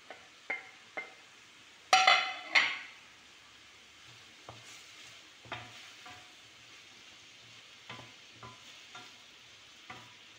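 Onion, carrot and capsicum sautéing in a pan for soya chunk chilli, a soft sizzle beneath scattered spatula taps and a couple of louder metallic clanks, fairly quiet overall.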